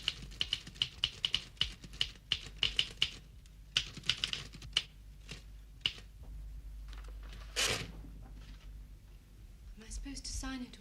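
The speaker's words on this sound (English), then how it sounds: "I just want to see how your typing's coming along." Keys clack on a typewriter in quick irregular bursts, close and crisp, with brief pauses between runs; a rustle and a voice come in near the end.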